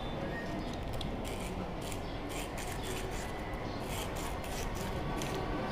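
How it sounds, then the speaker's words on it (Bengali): Sandpaper rubs back and forth over a small motorcycle washer, a close, continuous gritty scraping in quick repeated strokes. "তো আমি এটা একটু আপনার স্যান্ড পেপার দিয়ে এটা একটু ঘষে দেবো।"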